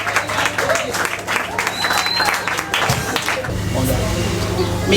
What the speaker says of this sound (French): nous acclamons très fort, nous acclamons très fort, nous acclamons très fort, la femme forte avec une grande vision